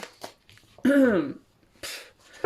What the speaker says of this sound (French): je vous explique pourquoi je tousse